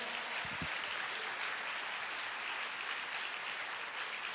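A congregation at a church service applauds at a low, even level, a steady distant wash of clapping with a couple of soft thumps early on.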